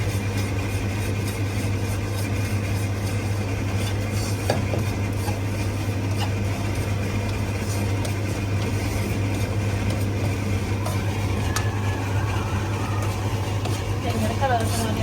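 Spice powder being stirred and dry-roasted in a pan for a traditional chicken varutharacha curry, with soft continuous scraping and light sizzle under a steady low hum while a person talks.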